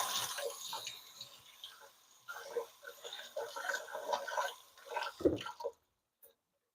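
Scallions are rinsed under running water, a quiet, uneven trickle and splash with soft wet handling noises that stop abruptly near the end.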